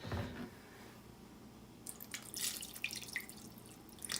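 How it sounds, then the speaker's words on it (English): Water is poured into a crock pot of Italian sausage and lentil stew, giving quiet splashes and drips, with a soft clunk at the start and a few gurgling trickles, faint and close. "I can see I need to add some water,"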